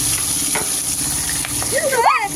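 Food sizzling and frying in a pan during home cooking, a loud steady hiss with a few stirring scrapes, close by, with a short vocal sound near the end.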